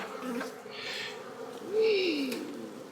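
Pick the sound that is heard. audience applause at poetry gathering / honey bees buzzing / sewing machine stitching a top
honey bees buzzing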